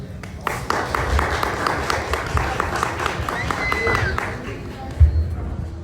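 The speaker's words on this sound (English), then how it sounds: "let's all give a big round of applause for Mel's parents for being here" Audience applause for Mel's parents at a talk on PTSD, a steady patter of many hands clapping across the room with a louder burst near the end, some voices mixed in.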